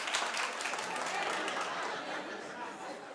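Studio audience of a daytime talk show clapping, a dense continuous wash of applause with some crowd chatter mixed in, steady and fairly loud throughout.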